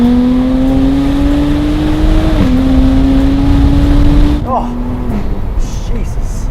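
Jaguar F-Type Coupe with a V6 exhaust pulls hard in first gear past trees and hedges, its loud rising engine note climbing steadily with a brief shift dip, then cutting off into quieter idle burble near the end.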